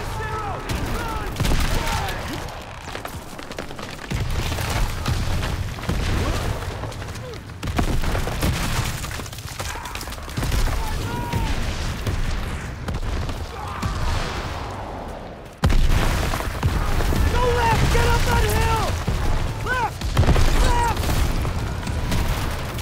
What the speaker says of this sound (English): Artillery! It's a trap! Keep moving!